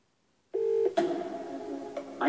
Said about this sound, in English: I'm going to phone Malcolm.